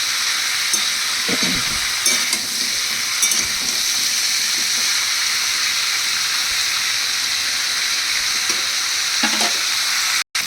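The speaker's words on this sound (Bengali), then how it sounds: "এবার আর এটা নাড়া যাচ্ছে না, নিচে লেগে লেগে যাচ্ছে, তার মানে ভাজা হয়ে গেছে।" Green jackfruit and prawns fry in a pan with a constant close sizzle and hiss, broken by occasional scraping stirs of a spatula against the bottom, ending in a sudden brief cutoff.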